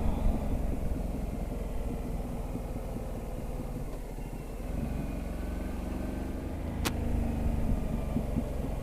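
Ducati Multistrada 1260S motorcycle engine burbling at low revs, a steady close rumble that dips briefly midway and swells again, with no talking.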